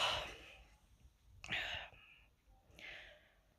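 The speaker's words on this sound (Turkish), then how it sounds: "Ay çok esneme geliyor." Close, breathy exhalations come in three separate bursts, a drawn-out airy yawn-like sound with slight voicing, quiet and intimate.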